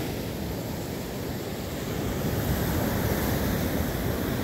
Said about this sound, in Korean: 파도도 좋고.